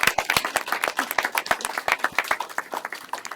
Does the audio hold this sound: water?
no